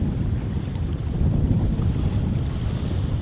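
Strong wind roars across a sailboat moving through shoal waters off Cuba during a squall, a steady loud buffeting rush mixed with water wash and microphone wind noise, with no voices.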